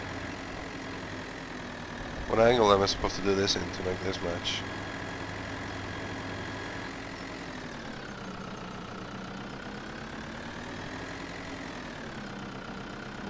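A tractor engine in Farming Simulator 2013 drones at a steady idle throughout, with a person talking briefly over it early on while the low hum carries on alone afterward.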